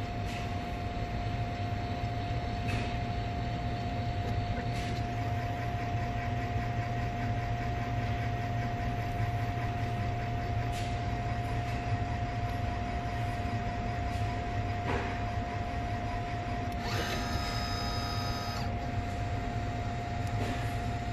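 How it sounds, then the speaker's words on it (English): A maintenance machine's motor runs steadily through its daily opening passes, a continuous hum with a constant tone and occasional light clicks, with a brief higher whirring near the end. "watch it do a few passes, and make sure that the motor's just moving nice and freely"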